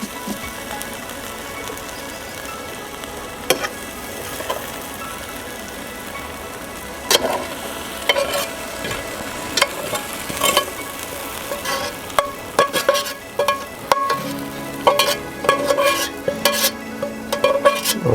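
Oyster sauce sizzles in a pan for pork chops, a steady close frying hiss broken by sharp scraping and stirring clicks that grow busier toward the end, with no voices.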